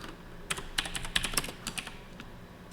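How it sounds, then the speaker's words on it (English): Quick, close keystrokes on a computer keyboard while coding in Visual Studio, in a short burst of about a dozen crisp clicks. The taps are quiet and irregular, with no talking. "why am I typing in Visual Studio?"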